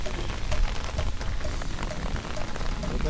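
Heavy rain pours onto a surface beside a ditch full of fish, a dense, steady patter of drops heard close and loud with no speech.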